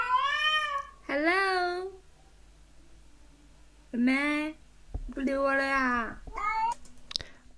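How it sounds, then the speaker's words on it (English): Stray cat meowing in a neighborhood, several close, drawn-out calls in bursts with gaps between, loud and clear, alongside a voice calling out. "I ain't gonna lie, I be hearing them cats."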